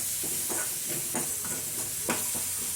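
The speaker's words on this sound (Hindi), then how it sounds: "अच्छे से भून लेंगे हम।" Masala idli roasting in a pan with turmeric and sambar powder, a steady soft sizzle with periodic scraping stirs about every half second, close and alone.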